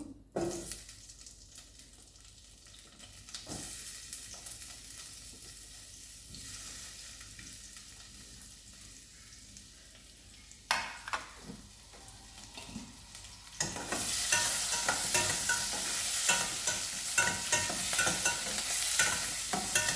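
Capsicum pieces frying in a pan with oil, a steady sizzle with occasional stirring scrapes that grows louder and more intense in the latter part, with no talking.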